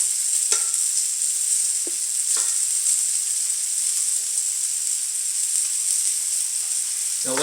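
Pieces of beef stew meat searing in oil in a pan give a steady, bright sizzle throughout, with a few faint clicks and shifts as the meat settles.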